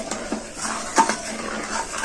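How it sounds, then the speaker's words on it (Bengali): A spoon stirs a milk and sago mixture in a pot, giving a few close clinks and scrapes against the metal in a short sequence. "আবার এটাকে আমি ভালো করে নেড়ে ছেড়ে নেবো"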